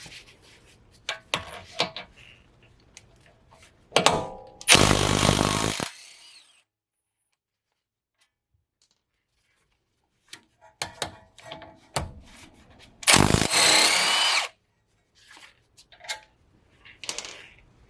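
Power tool spinning out the brake caliper bolts on a Toyota FJ Cruiser, two short loud bursts separated by quiet, with clinks and handling noises around them.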